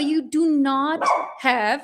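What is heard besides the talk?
dog barking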